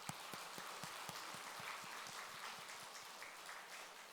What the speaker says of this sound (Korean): 우리 박수 한번 보내주세요.